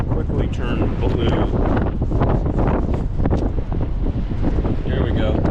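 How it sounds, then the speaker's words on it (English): Chilly autumn wind roars across a microphone during a bike ride, a constant close buffeting rush that barely lets up, with a voice faintly underneath. "It is, as you might can hear, it's rather windy and it's chilly"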